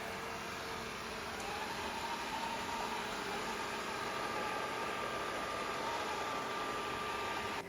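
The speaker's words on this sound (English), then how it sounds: "Now here it is again, but this time on maximum suction." Yeedi Vac 2 Pro robot vacuum running at maximum suction, a steady, fairly quiet motor hum and airy whoosh with a faint high whine, unchanging throughout and free of speech.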